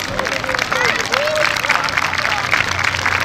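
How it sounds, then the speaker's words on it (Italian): Clapping from a small crowd at an under-8 youth football gathering, greeting a child, dense and steady throughout while voices talk over it. "Applauso per il nostro figlio di Mario"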